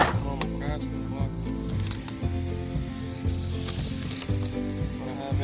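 A quarter-inch ratchet from a field mechanic's tool box clicks in rapid, steady pawl bursts, close and clear, with a metallic rattle continuing almost without pause.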